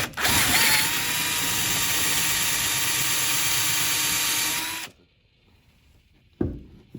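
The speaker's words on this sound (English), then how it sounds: "Same thing with the other side. Let's take our drill." A power drill runs continuously at high speed for about five seconds, drilling holes in an old dresser for a mirror, close and loud, then cuts off into near silence with a brief knock.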